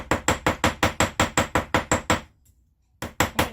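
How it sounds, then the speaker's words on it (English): Rapid, even hammer taps on a metal earring ring out in a steady series of about fourteen strikes, a brief pause, then three more blows. "Hammer the whole body of the earring"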